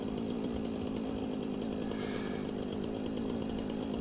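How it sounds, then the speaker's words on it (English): A chainsaw in the video game Satisfactory runs continuously, a steady buzzing drone at even loudness with a brief rise in intensity midway as it bites in, no voices. "I'm exploring with a chainsaw"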